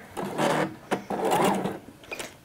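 Sewing machine running short bursts of backstitching on a skirt hem: two quick buzzing runs of stitching separated by a brief pause, close and clear, followed by a softer tail.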